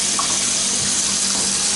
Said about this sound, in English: Water pressure is very good.